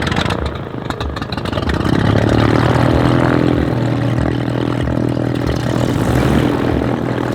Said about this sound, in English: It is a Cessna 337 Skymaster.